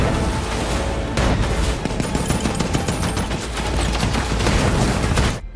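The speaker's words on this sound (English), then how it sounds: "Kraus immediately opened fire on the enemy ship." A destroyer opens fire on a German U-boat in a wartime Atlantic battle, dense rattling gunfire and booms sustained for over five seconds, loud and continuous with a heavy low rumble underneath.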